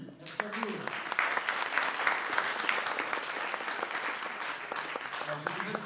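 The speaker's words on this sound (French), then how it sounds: "Merci Emmanuel, on peut l'applaudir." Sustained audience applause at a Disneyland Paris press conference, dense clapping from a large crowd holding steady for several seconds, with a few voices mixed underneath.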